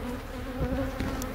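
Steady, close buzzing of honey bees swarming during a beehive relocation from a demolition site, a dense continuous drone with no voices.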